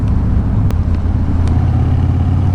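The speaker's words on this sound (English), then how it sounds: "the motorcycle's got a really good sound to it" A Harley-Davidson Fat Boy engine with aftermarket exhaust pipes idles with a deep, throaty rumble, steady and close, with a couple of faint clicks over it.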